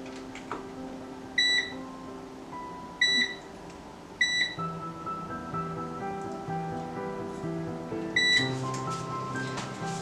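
Kitchen oven control panel emitting short electronic beeps, four separate bright chirps spread across a few seconds as it is set to preheat to 375 degrees, heard over faint room hum and soft clatter.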